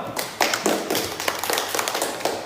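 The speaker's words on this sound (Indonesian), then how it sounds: "Tepuk tangan dulu." Group of people clapping hands together in a classroom counseling session, a burst of brisk, uneven applause filling the moment with sharp overlapping taps.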